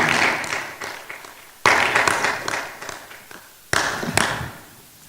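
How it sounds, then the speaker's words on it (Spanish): A church congregation clapping during a Spanish-language sermon in three separate bursts, each starting sharply and fading away, with close, distinct hand taps and thuds in between. "Un aplauso cerrado, amados hermanos."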